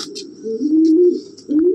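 A Giribaz pigeon from a breeding pair at a loft gives close, soft throaty coos in two rolling phrases, with a few faint high chirps in the background.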